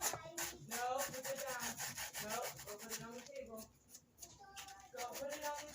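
Scuff marks are rubbed off thrifted Prada sneakers in quick, close scrubbing strokes, rhythmic and rasping, with a voice talking over parts of it.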